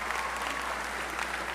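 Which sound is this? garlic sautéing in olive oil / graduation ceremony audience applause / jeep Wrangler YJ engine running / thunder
graduation ceremony audience applause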